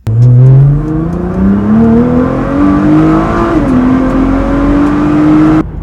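A Nissan GTR accelerates hard from close by, its engine note climbing steadily through the gears with a brief dip at a shift before rising again, loud and continuous throughout.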